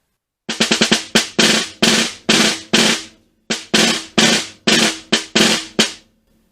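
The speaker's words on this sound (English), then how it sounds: "these rolls need to have some separation between them. So what I'm actually doing for this is I'm using both sticks" A snare drum plays an etude phrase of short buzz rolls, a quick cluster of strokes followed by evenly spaced buzzes with a brief pause mid-phrase; close, crisp and loud with no talking.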